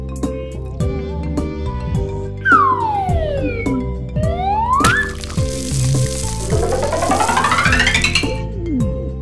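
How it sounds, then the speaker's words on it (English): A black police car in a children's cartoon about vehicles sounds a loud siren, with sweeping wails rising and falling over a busy backdrop of plucked musical notes and sound effects. "Black police car."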